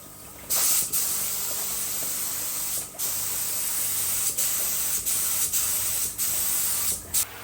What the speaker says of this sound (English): That's the clear coat all done and dusted.